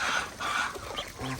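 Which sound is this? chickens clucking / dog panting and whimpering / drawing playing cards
chickens clucking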